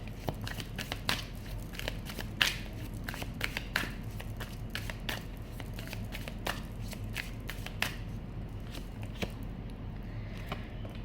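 Tarot cards are shuffled and handled in a quiet room, giving a long, uneven series of soft slaps, flicks and papery rustles near the listener.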